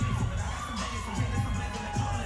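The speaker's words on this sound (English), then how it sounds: "She's getting a lot of hype from the crowd" A crowd at a boxing event cheers and shouts continuously, with loud mixed voices and whistles close and busy throughout.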